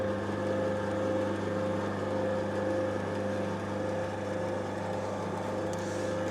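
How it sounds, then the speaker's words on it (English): Small lathe running in reverse while tapping a thread with a small tapping attachment, a steady close motor hum with constant tonal whine and no voices. "Bit more oil, put the lathe in reverse."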